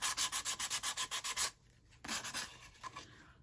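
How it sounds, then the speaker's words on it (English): A wooden birdhouse has its paint sanded off by hand, with a fast rhythmic run of about a dozen close scrubbing strokes, a pause, then a shorter, softer burst of rubbing. "You don't need to watch me sand."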